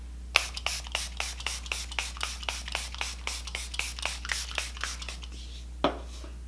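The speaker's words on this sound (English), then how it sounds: "I'm going to spray my face" Rapid, evenly spaced hissing spritzes from a face setting spray bottle, about twenty short bursts in a steady rhythm over a low constant hum.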